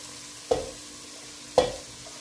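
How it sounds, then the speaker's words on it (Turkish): Carrots sautéing in a pan, two distinct scraping stirs a second apart over a faint background sizzle. "biraz da havuçlarını şöyle soteleyelim"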